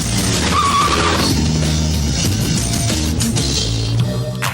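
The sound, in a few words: motorbike skidding away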